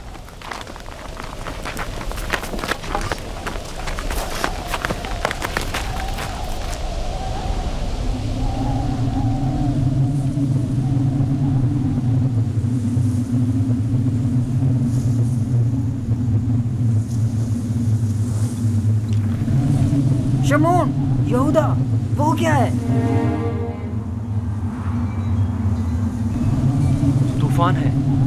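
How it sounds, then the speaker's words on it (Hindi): A raging storm with a steady roar of wind and rain lasting throughout, overlaid by deep droning tones, with people calling out and talking over it. "तूफान है, हमें कहीं पनाह लेनी चाहिए।"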